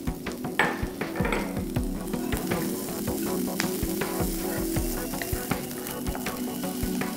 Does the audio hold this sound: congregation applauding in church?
no